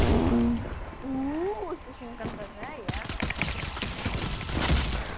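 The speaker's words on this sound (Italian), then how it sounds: "spari con le pistole" Pistol gunfire in the Fortnite video game: a burst of sharp, rapid shots follows an opening stretch of game sounds, with people talking over it.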